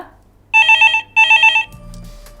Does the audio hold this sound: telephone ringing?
yes